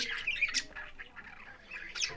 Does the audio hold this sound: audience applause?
no